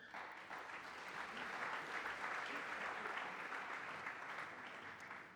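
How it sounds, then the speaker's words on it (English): An audience at an award ceremony claps in sustained, even applause lasting several seconds, moderately loud and without a break. "Big round of applause."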